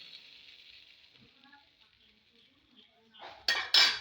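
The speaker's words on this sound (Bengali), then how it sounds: "চিংড়ি মাছটাও ঢেলে দিই।" Lightly fried shrimp tipped into a pot of thin white curry, landing with two sharp, loud splashy sizzles and clatters at the end, after a quiet stretch of soft steady simmer hiss.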